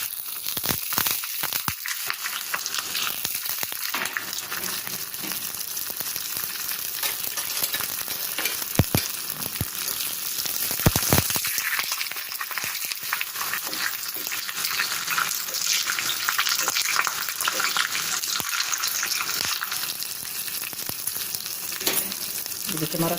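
Green chilli and curry leaves with mustard seeds sizzle and crackle in hot oil for a dhokla tempering, a steady close frying hiss with sharp pops and stirring scrapes, no voices.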